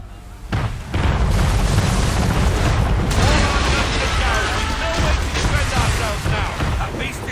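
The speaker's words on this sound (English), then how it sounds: "We're under attack! Man of war's firing!" A man-of-war warship fires its cannons in a naval battle in Assassin's Creed 3, loud booming blasts rolling into sustained rumbling and crashing chaos with a faint voice mixed in.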